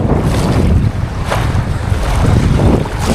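Wind and sea waves buffet a boat in a steady, loud roar with washing surges of water and microphone wind noise, continuous throughout with no talking.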